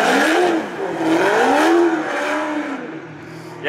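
Drift car running a Mercedes-AMG GT R engine at a Sochi drift challenge, loud and close, its engine note swooping up and down in repeated revving waves with possible tire noise, no talking.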